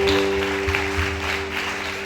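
A church audience applauds to acclaim the Lord, a dense, steady wash of clapping that fills the room evenly, with a sustained musical hum underneath.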